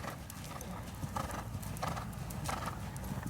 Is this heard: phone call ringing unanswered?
no